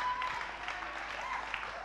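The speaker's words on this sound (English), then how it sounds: "Clap your hands for Jesus Christ." Church congregation clapping their hands, a dense and even burst of applause that sounds somewhat distant and fills the whole stretch without pause.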